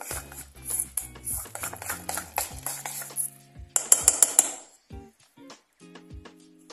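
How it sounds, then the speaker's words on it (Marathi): Onion pakora batter whisked in one direction in a bowl, with quick rhythmic clinks and taps of the utensil against the bowl, then a short run of brighter metallic clinks, close and fairly quiet with no talk. "सोडा घालून झाल्यानंतर हे पीठ एकदम फेटून घ्यायचं. एकाच दिशेने फिरवायचं."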